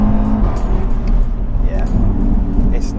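A car engine roars loudly and steadily, from either a 460 hp Audi RS3 or a 460 hp BMW M140i, a deep continuous drone heard from inside the car with a person talking over it.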